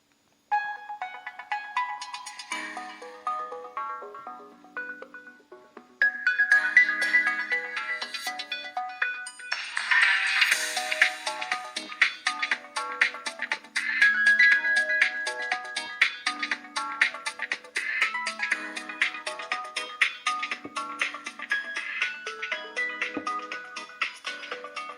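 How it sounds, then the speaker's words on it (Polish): Music plays through a mobile phone's small loudspeaker, a thin, tinny melodic tune with bright tones and a steady beat, heard alone at moderate volume. "Wejdziemy sobie w odtwarzacz MP3 i zobaczymy, czy jest aktualnie jakaś muzyczka, którą byśmy posłuchali i zobaczymy, jak telefon sobie radzi na głośnikach."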